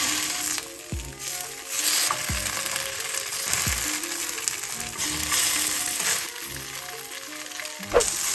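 Tofu frying in a pan after being flipped, a continuous loud sizzle with occasional spatula scrapes and knocks against the pan.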